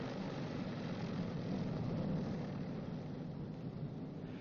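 A B-29 bomber's number 1 radial engine idles at 700 RPM during a magneto check, a faint, steady low drone with a rough, continuous rumble and no talk over it.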